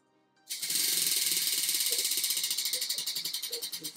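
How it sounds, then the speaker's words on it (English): A prize wheel is spun, starting with a sharp burst and then rattling through a long run of rapid clicks that gradually slow as it loses speed. "the wheel's going to decide where we go. Who's going to spin?"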